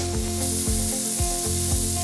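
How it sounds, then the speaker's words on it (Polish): Bacon sizzles in a frying pan with a few spoonfuls of olive oil, a steady loud hiss and crackle broken by soft rhythmic scraping strokes, with no one talking. "zaraz będziemy słyszeć taki piękny dźwięk o, smażącego się boczku"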